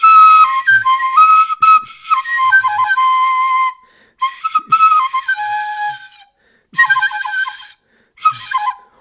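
Replica prehistoric flute with a simple bevel, Kena style, played in several breathy whistling phrases separated by pauses, clear and close with no voices.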